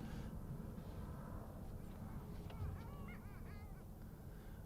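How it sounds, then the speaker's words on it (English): Geese honk near Boston Logan Airport, a few rising calls against a steady low roar of outdoor airport background noise. "hearing the birds too much around here."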